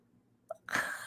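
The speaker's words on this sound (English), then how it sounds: "Oh, I'm gonna sneeze." A short intake of breath, then a single loud, close sneeze bursting out and trailing off.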